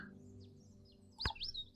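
A Hooded Warbler call plays in the Wingspan board video game, a single quick bright chirp followed by a short warbling phrase over faint background hum.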